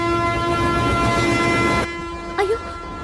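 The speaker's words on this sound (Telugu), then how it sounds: "అయ్యో, ట్రైన్ స్టార్ట్ అయింది." A passenger train sounds its horn as it begins to pull out of a station in a film comedy scene: a long, steady horn tone that cuts off abruptly, followed by a short second blast.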